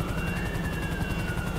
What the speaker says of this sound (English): the chopper is here